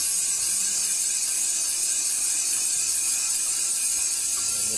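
A Moore No. 3 jig grinder's 40,000 RPM spindle runs continuously, producing a steady, very high-pitched whine with a hissing wash over it, constant in level and unbroken for the whole stretch.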